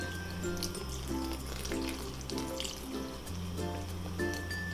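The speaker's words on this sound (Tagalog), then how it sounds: "Pag medyo kulang po yung tubig ay pwede po tayong magdagdag." Water poured into a cooking pot of simmering cabbage rolls, a steady wet pouring and bubbling sound close by, continuous with a low hum underneath and no talking.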